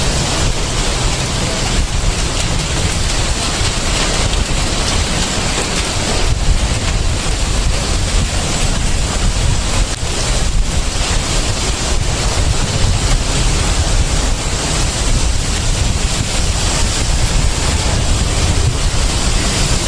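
Heavy wind and driving rain during Super Typhoon Uwan, a dense, loud, unbroken roar of rushing air and rain beating around a giant money tree, steady for the whole stretch with no clear voices.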